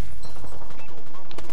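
Gunfire in the online shooter Alliance of Valiant Arms cracks in rapid bursts, loud and dense, over a constant game soundscape while a player talks.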